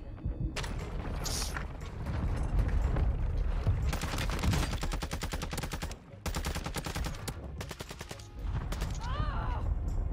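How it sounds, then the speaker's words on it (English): Gunfire from Call of Duty Warzone on Ashika Island, with dense rapid automatic bursts, some single cracks and a short break near the middle, loud and continuous, over faint game background sound. "Guy was shooting at him from up there."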